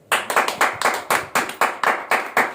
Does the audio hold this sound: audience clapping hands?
yes